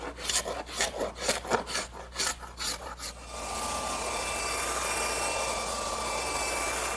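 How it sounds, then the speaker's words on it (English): A wooden tabletop is sanded, first in quick rhythmic back-and-forth rasping strokes, then as a steady continuous whir of sanding close by, with no voices. "and sand it"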